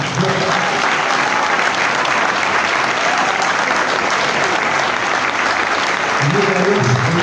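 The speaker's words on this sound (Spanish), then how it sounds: "Fuerte las palmas." Church congregation applauding loudly for a pastor, a steady dense wash of clapping hands that holds through to the end, with some voices mixed in underneath.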